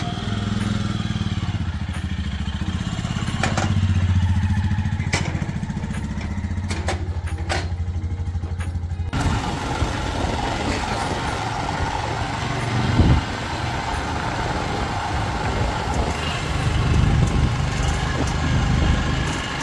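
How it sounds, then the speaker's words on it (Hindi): A motorbike engine idles with a low rumble, then starts up and revs louder as the bike rides off along a mountain road toward Khardung La near Leh, with the engine noise and road rumble filling the rest of the recording. "करते हैं बाइक स्टार्ट और निकलते हैं बाहर की तरफ।"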